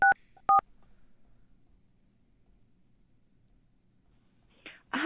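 Two short telephone keypad dialing tones beep at the start, clear and close, followed by near silence with faint line hiss and a burst of static at the end.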